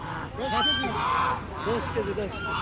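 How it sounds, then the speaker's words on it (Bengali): Turkey calls close by, repeated nasal gobbling and honking bursts in a busy village poultry market in Bangladesh with faint voices underneath. "এই যে এখানে একটা টার্কি মুরগি আছে"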